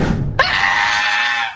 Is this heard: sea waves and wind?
no